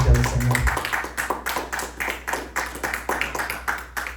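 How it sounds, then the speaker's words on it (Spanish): A church congregation claps hands together in a strong, steady rhythm, about two to three claps each second, over a low hum, with a brief louder burst at the very start. "Vamos a darle esa ofrenda de palmas fuerte al Señor."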